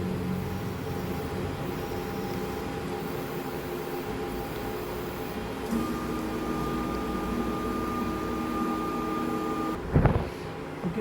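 Multi-head bioprinter for printing on petri dishes and glass plates moving its head to the center position, a steady mechanical motor hum with a faint high whine, ending in a short clunk.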